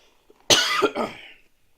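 A person coughs hard in one loud, rough burst, then a second shorter hack trails off, sounding as if choking on something, with no speech around it.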